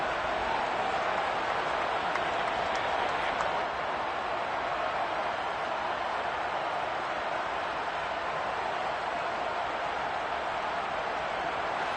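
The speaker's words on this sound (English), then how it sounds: "That just means this crowd's going to get even louder." Roaring stadium crowd cheering in a Madden NFL football game during a New Orleans goal-line stand, a dense steady wall of noise that holds loud and unbroken throughout.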